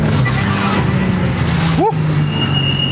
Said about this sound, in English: I just had to get an open area where I can launch from the first gear now.